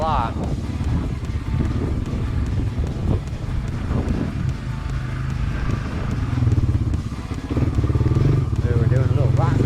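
A Honda 300 4x4 ATV engine revs steadily and close up during off-road riding, its tone changing with gear clicks, over heavy wind noise on the microphone.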